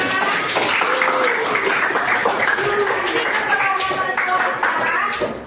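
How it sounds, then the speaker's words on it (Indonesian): A classroom audience of students and teacher gives a loud, lively round of applause lasting several seconds, with voices calling out over the clapping. "sekarang kita berikan dulu tepuk tangan buat kita semua"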